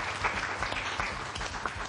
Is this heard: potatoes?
no